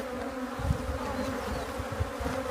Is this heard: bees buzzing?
yes